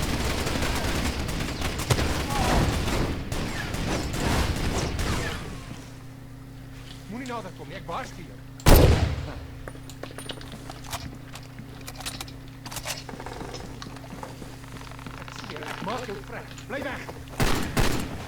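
Ammo pile cooking off amid gunfire in the Far Cry 2 video game, heard as scattered popping bursts and a sharp loud blast near the middle, with rhythmic crackling and another burst at the end over a steady engine-like drone.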